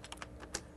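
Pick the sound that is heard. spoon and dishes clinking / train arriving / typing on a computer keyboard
typing on a computer keyboard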